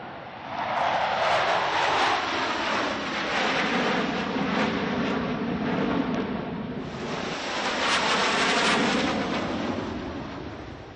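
Military jets roar overhead at the Zhuhai Airshow in China in 2024, a loud, sustained engine rumble that swells twice as the aircraft pass, with no voices.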